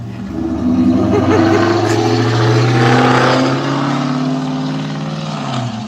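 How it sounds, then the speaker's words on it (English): A loud car passes close by in a garden setting, its engine roaring steadily and swelling for several seconds before easing away, with no talk over it. "that's a loud car"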